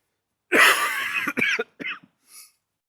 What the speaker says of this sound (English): a hacking cough is indeed that evidence